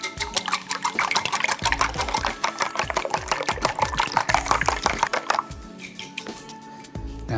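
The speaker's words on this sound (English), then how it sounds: "I'll just give these a little whisk together." Five eggs are whisked together in a bowl with a fork or whisk, seasoned with salt and sugar for a tomato and egg stir-fry. The beating is rapid and rhythmic, with close, wet clicking strokes that slow near the end.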